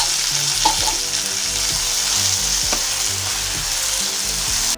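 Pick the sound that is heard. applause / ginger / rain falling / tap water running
ginger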